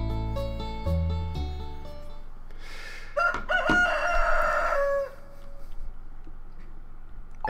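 A rooster crows loudly and clearly in Stardew Valley, one drawn-out cock-a-doodle-doo rising over bright game music notes, standing alone without any voices.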